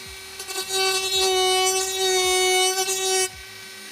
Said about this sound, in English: now I'm going to use the Dremel.